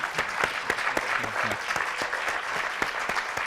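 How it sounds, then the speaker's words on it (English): A crowd at a university festival event applauds second-year students, a short, lively burst of dense clapping with sharp individual claps and a faint voice or two underneath. "a big round of applause for everyone from the second years"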